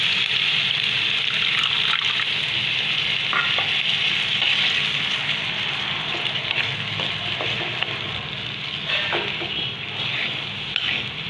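Water added to a hot pan of frying vegetables for masala pineapple chutney, a steady close sizzle with faint stirring scrapes that lasts throughout, with no talk.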